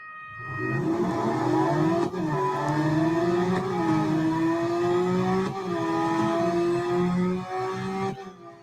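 A car engine in a drag race in the video game Real Racing 3 revs loud and close, its pitch climbing through several gear shifts with brief dips between them.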